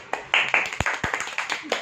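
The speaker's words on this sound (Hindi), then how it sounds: "तालियां मारो" A small group of people indoors claps a few times in quick, uneven bursts, close and fairly light, with a couple of louder individual claps and faint voices.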